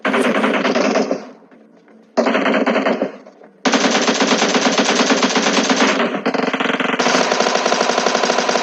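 Rapid automatic gunfire bursts out in PUBG Mobile, loud and close, in several long volleys broken by short pauses, with no speech.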